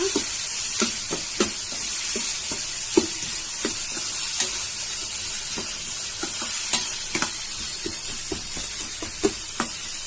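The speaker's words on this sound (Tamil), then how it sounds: "ஒரு 10 நிமிஷம் இது மாதிரி கொஞ்சம் நல்லா வதங்கட்டோமா" Ingredients sauté in a pan with a steady, moderate sizzle, broken by regular scrapes and clinks of a spoon stirring throughout, with no talking.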